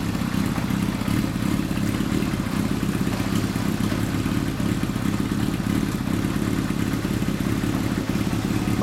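A 1994 Kawasaki Zephyr 750RS (ZR750C) motorcycle fitted with a Mid Knight exhaust runs close by with a continuous deep, throbbing engine rumble that holds steady throughout, with no talk.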